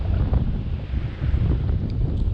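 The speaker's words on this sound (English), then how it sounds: "20 to 30 mile an hour wind gusts, maybe 10 to 15 down here in this creek bottom" Strong 20 to 30 mph wind gusts buffet the microphone in a creek bottom, a continuous low roar rising and falling in gusts with no voices.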